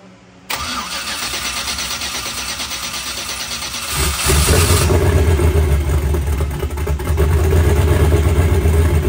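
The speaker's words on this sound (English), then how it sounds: "it's not idling right. Like it keeps going down into like initial and then coming back up in the RPM" A no-prep drag build car engine with an oil pressure problem cranks and fires, then idles roughly as its revs sag and climb back. The steady, close rumble swells louder partway through and carries on without talk.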